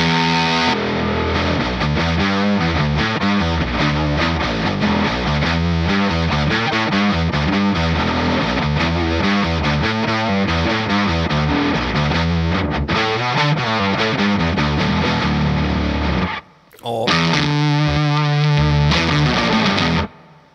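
A distorted electric guitar runs through a Third Man Triplegraph octave pedal, playing a loud, continuous run of thick octave-shifted notes, then a brief cutoff and a short final burst.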